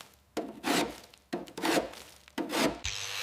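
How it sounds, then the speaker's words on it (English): Old undercoat cracking and peeling off the body of an abandoned 1964 Aston Martin DB5 during restoration: three dry, scraping rasps in steady succession, close and fairly loud, with no voices. "The old undercoat cracks and peels away in dry,"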